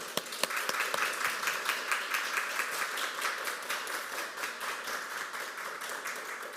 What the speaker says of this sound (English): And we say that with a round of applause.